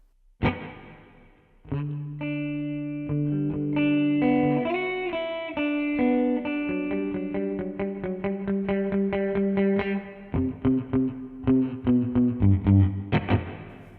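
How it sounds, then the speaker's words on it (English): Distorted electric guitar notes ring out through a Line 6 DL4 MkII delay pedal with spring reverb, chords sustaining and echoing, ending in rapid repeated plucked notes. "Start everything down just so we can hear that reverb."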